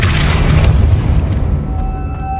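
A Depulso spell is cast in the Hogwarts Legacy video game, a loud close booming blast that swells, then decays into a rumbling tail with a faint lingering tone.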